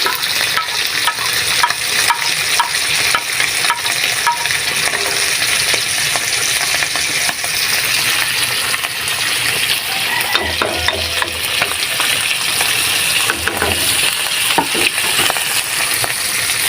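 Dried fish (tuyo) with malunggay leaves sizzles loudly and continuously in a pan while a utensil stirs and clinks against the metal, close up and with no voices.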